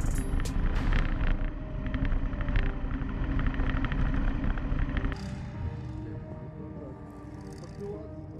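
ATV crossing a swamp in a 4x4 comparison with an ARGO Avenger 800, Dobrinya and Taiga, giving a steady loud engine drone with splashing and wind buffeting throughout, easing slightly in the last few seconds.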